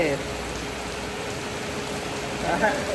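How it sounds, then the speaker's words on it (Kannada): Rain falling in Dubai makes a steady, broad hiss of drops hitting surfaces, close and continuous, while faint voices murmur underneath. "ಮಳೆಯಲ್ಲೇ ಶೂಟ್ ಮಾಡ್ತಾ ಇದ್ದೀನಿ ಇವಾಗ ನಾನು ಎಷ್ಟಂದ್ರೆ ದೊಡ್ಡ ಹನಿ ಬರ್ತೇವೆ"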